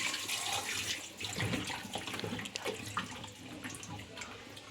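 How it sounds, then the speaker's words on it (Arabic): Water pours into a pan of chicken being cooked, a soft continuous splashing and trickling close by for a few seconds. "نضيف عليهم شويه د الماء"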